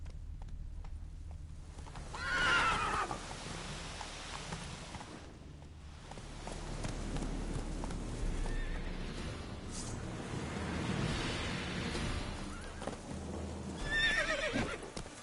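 Roach the horse from The Witcher 3 gallops with steady clip-clop hoofbeats throughout, broken by loud whinnies near the start and again at the end, with game ambience underneath.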